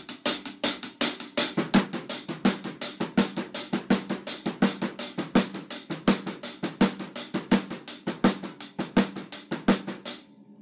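Drum kit playing a rock and roll groove of straight eighth notes with the right hand, a brisk even pattern of crisp hits with regular accented beats, close and clear, no voice over it, ending with a short decay.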